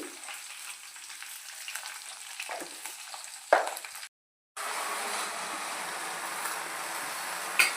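Gongura leaves sizzle and fry in oil for chutney, a steady soft crackling hiss with a brief stir and a short break before it resumes.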